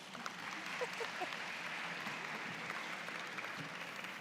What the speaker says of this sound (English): So one more round of applause for Estella.